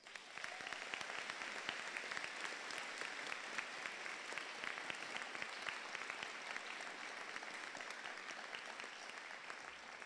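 Graduates and guests at a 2022 high school graduation ceremony applaud the concert band and staff, a steady wash of clapping from a large crowd that holds at an even, fairly distant level throughout.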